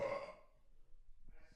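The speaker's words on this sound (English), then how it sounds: "I moved the mic away from my burp." A single burp erupts loud at the start, slightly off-mic, then trails off into near quiet with only faint small sounds afterward.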